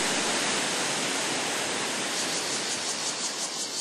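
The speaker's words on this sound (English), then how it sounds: "you watch the white curtain of water crash into the pool below" Steady, loud roar of a white curtain of water crashing into a pool below in a forest recreation area, continuous broadband rush without a break.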